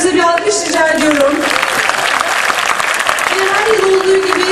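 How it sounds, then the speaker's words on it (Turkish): Loud, dense audience applause fills a festival hall, steady and sustained throughout, with a voice faintly audible beneath the clapping. "Bunun için de yönetim kurulu üyelerimize bir alkış rica ediyorum."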